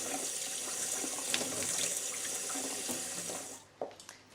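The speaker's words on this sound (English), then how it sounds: "rinse it under the cold tap until the water runs clear" Cold water from a kitchen tap runs in a steady, close hiss over rice in a sieve, then cuts off near the end, leaving a few drips and soft knocks.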